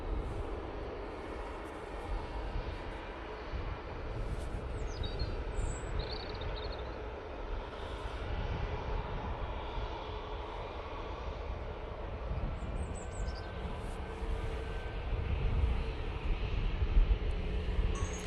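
KLM City Hopper jet waiting at Manchester Airport, its engines giving a steady low roar and hiss that holds for the whole stretch, moderately distant, with faint high whines drifting in now and then and no talk.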